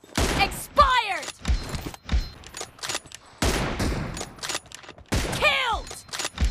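Rapid gunfire in a PUBG sniper-room match, with bursts of shots and whizzing, whistling ricochet sweeps between them, played at close range and mixed with short game voice callouts.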